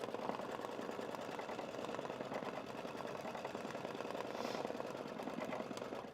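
Sewing machine stitching over a heat transfer vinyl applique on fabric, a steady continuous mechanical whir running the whole time at moderate level with no talk.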